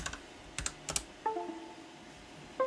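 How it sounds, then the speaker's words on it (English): Keys on a computer keyboard being typed, a handful of separate clicks at an uneven pace, close and fairly quiet, with no talking. "and then you're gonna type save."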